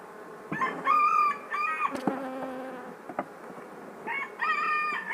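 Honey bees buzz close by during a hive inspection, a steady droning hum with swelling bursts of higher-pitched buzzing coming and going over a few seconds.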